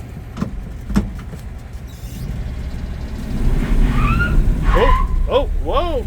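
A 1964 Ford F100 short-wheelbase pickup truck pulls away, its engine rumbling low and close. A few thuds and clunks come first, and high squeaks and chirps join as it drives off, with a voice talking over part of it.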